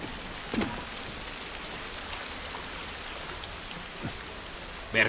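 Steady rain falls in The Last of Us Remastered on PS4, a constant even hiss with a few soft drip-like taps scattered through it.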